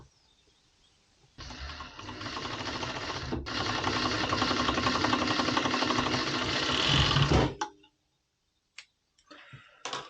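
An overlock sewing machine runs steadily for about six seconds while stitching a women's functional top, a dense, fast mechanical whir that stops abruptly, followed by a few faint clicks and handling sounds.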